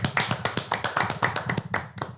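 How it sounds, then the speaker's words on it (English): Quick, evenly spaced hand claps ring out close by for a couple of seconds, a small round of applause on a football fantasy-league podcast, with no talking over it. "I think that calls for a round of applause"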